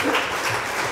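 A church congregation breaks into a short burst of steady, dense applause from many hands.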